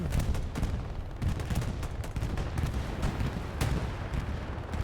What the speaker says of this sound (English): Interesting bombing run coming in.